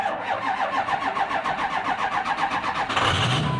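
A 2005 Ford F-250 with the 6.0 diesel cranks in a steady rapid rhythm for about three seconds, then fires and settles into a loud close rumble near the end.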